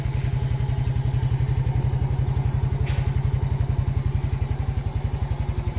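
A motorcycle engine idles steadily and close by after being started with its starter button, a rapid even low thumping that holds for the whole stretch, with a faint clatter over the top.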